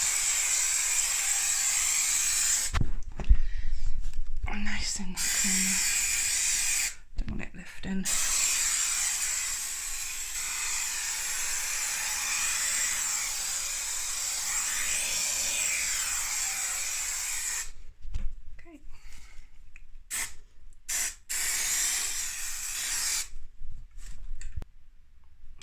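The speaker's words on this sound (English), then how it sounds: "I'm just going to give it a bit of spray of super adhesive" Contact adhesive sprays onto sisal stair carpet at a bullnose with metal edge trim in long steady hisses broken by short gaps and clicks, while a person speaks briefly in between.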